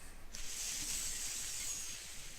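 An I Taste MVP vaporizer hisses steadily and faintly in the background, a soft continuous airy sound that comes in after a brief lull and holds evenly throughout.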